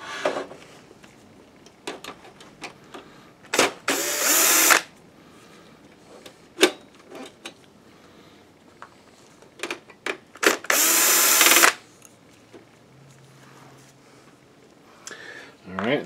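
A power screwdriver takes screws out of an Epson Home Cinema 5040UB LCD projector, heard as two sustained, close whirring bursts between clicks, taps and small metallic handling sounds, with someone talking softly.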